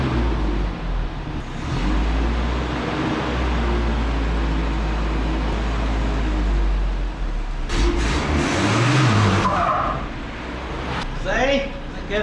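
A 1984 Toyota dually truck drives back and forth, its engine a steady loud rumble that rises and revs near the end, with a person talking over it.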